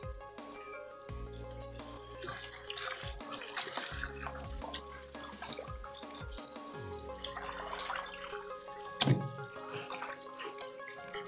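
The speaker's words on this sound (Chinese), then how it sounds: "用自来水给它冲洗一下。" Chopped pork ribs in a basin being rinsed under running tap water, a soft splashing flow with drips under background music, no talking.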